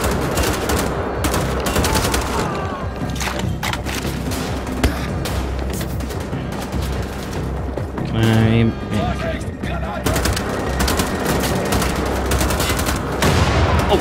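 Rapid gunfire and bursts of automatic weapons crackle through a firefight in the video game Wolfenstein: The Old Blood, with a dense run of shots and a deep boom midway, under a player's talk.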